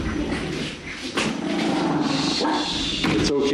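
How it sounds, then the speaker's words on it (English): A neighbor's dog barks at a distance in a home, the noise filling the room steadily with a few thumps, and no one speaks over it. "They're barking at you, too."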